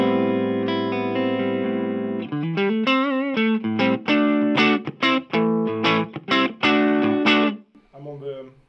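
An electric guitar played on the neck pickup through an Orange Micro Terror amp head with no reverb into a 12-inch speaker, giving a sustained chord, then a run of distorted, slightly muddy and compressed notes and short chords, loud and close.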